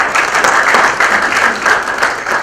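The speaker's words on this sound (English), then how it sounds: "let's welcome with a round of applause." An audience at an HR conference hall gives a round of applause for a speaker. The clapping is dense, steady and sustained, with no speech over it.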